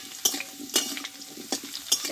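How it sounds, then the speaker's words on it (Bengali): Potatoes sautéing in oil in a pan, sizzling softly while a spoon stirs and scrapes at them in four or five sharp, irregular strokes, close up, with no talking. "বন্ধুরা এই তেলটাতে আলুটা একটু ভালোভাবে একটু কষিয়ে নেব।"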